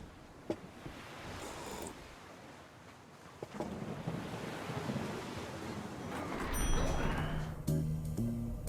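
Beach waves and blustery wind in the Human Resource Machine video game, a steady broadband wash that swells louder toward the end, with faint tonal game sounds late on.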